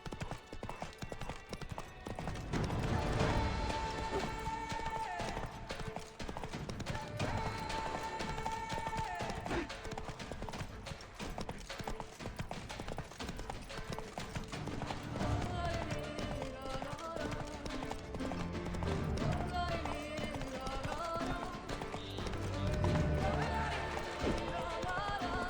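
A horse gallops in The Witcher 3: Wild Hunt, with steady rhythmic hoofbeats running throughout beneath the game's orchestral music.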